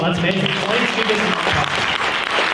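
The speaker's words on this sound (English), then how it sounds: "Clap it up for Carl." Audience claps for Carl Hawthorne at a real estate business marketing event, a continuous burst of applause with a voice speaking briefly over it.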